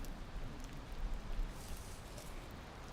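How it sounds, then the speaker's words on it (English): Steady, faint rain falls in the Valheim video game, a soft continuous hiss with no voices over it. "because it's bloody raining."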